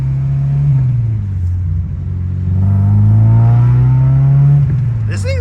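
A K24-swapped Acura RSX Type S pulls under acceleration from inside the car, its engine a loud, steady drone that rises in pitch as it revs, with people talking over it.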